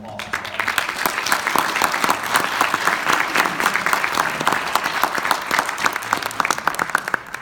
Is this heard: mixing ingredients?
no